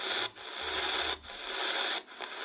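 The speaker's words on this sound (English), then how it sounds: "You're hearing the same interference noise on this one." Steady hiss and crackling static of AM band interference from an XHDATA D-328 shortwave radio, broken by three short dips in level as the tuning steps between stations.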